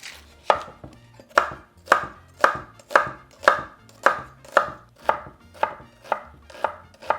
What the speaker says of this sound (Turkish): o yüzden hızlıca doğrayıp soğanları bitirelim